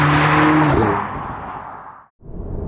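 Audi S3 engine heard from inside while driving, a loud steady drone that fades over a couple of seconds before cutting out abruptly and returning; no talk.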